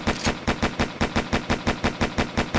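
Rapid automatic gunfire from a first-person shooter built in Unity 3D, about a dozen evenly spaced loud shots in a steady burst with no talking.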